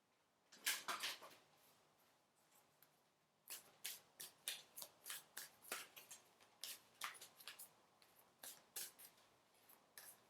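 An oracle card deck is shuffled by hand, first in a short riffle burst and then in a steady run of quick, crisp card flicks and slaps, close and fairly quiet, with no talking.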